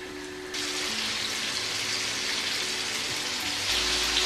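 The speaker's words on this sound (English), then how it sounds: "I'm just going to fry them now." Chicken strips fry in a pan with a steady, close crackling sizzle that grows louder after a moment and continues evenly.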